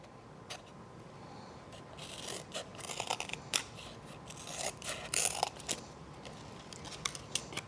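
Scissors snip through paper in a quiet indoor setting, with repeated short crisp cuts and rustling that come in uneven bursts, close and fairly soft.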